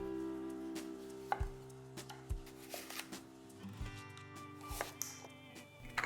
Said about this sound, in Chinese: 去皮切片。